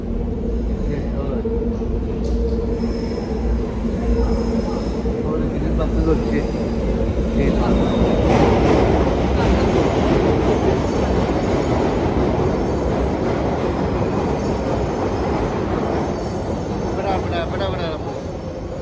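A London Underground Central Line train at Bank station rumbles loudly and steadily, with rising wheel noise and screeching in the middle, while voices talk underneath.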